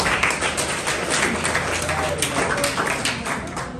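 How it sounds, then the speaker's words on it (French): A crowd claps in sustained, dense applause at a student union office handover ceremony, with voices mixed into the steady clapping throughout. "avec une tonnerre d'acclamation"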